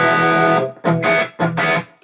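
Electric guitar played through an Atomic Amplifire with a slight volume boost engaged, three loud distorted chords ringing close, each cut off before the next strike.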